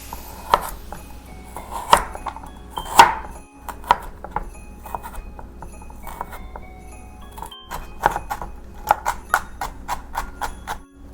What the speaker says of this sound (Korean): 당근 약간만 다져서 넣으려고요